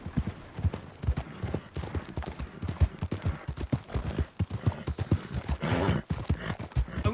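Horse hooves clip-clop steadily as a horse pulls a cart in a video game, the rhythmic beats continuous and fairly close throughout.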